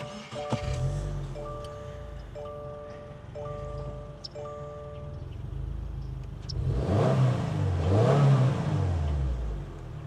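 A 2025 Subaru WRX tS is push-button started, with a chime sequence followed by the engine catching and revving loudly, close up, with no talking.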